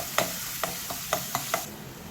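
Onions sautéing in a heated kadai, a low steady sizzle with five or six light sharp taps and scrapes of a spoon against the metal, close and fairly quiet.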